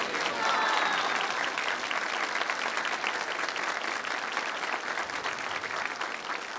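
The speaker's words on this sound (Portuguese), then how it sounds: "eu acho que vocês merecem, sim, uma salva de palmas" Audience at a Catholic church gathering applauding, a full, steady round of clapping from a crowd that holds at an even loudness throughout, with faint crowd murmur mixed in.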